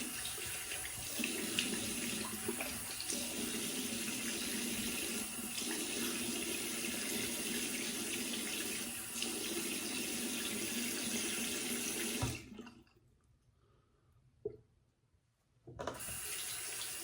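Water from a bathroom tap runs steadily into a sink during rinsing after a single edge razor shave, a close continuous splashing stream that cuts off briefly and then starts again.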